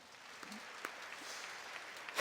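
A church congregation claps during a Korean sermon, a diffuse, moderately distant applause that swells slightly and holds steady, ending in a louder burst.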